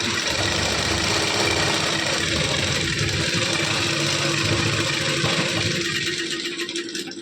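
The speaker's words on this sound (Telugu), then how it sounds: "ఇప్పుడు డైరెక్ట్ కుట్టు అయితే వేసేసుకోవడం" An electric sewing machine stitches the side seam of a blouse, its motor running as a steady, close whirring drone for the full stretch before easing slightly at the end.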